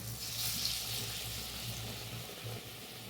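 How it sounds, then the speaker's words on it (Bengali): Potato bread chops frying in oil, a soft continuous sizzle and bubbling at moderate level with a low steady hum beneath. "লাল লাল করে ভেজে নিলাম।"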